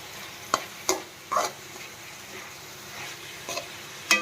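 Cauliflower fry stirred in a pan, with a low sizzle under a few distinct scraping spatula strokes spaced apart, close by and moderately loud.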